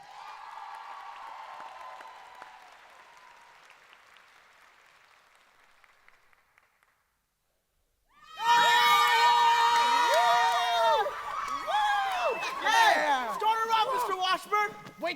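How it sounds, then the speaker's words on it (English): At a youth theatre awards show, a brief patch of applause fades out and gives way to silence, then a stage number from The Music Man begins with loud singing, music and shouting voices. "Let's give a warm round of applause to Fort Worth Academy of Fine Arts"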